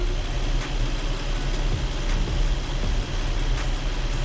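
A car engine idles steadily after startup, a smooth, even low rumble with no ticking, close and constant throughout with no talking.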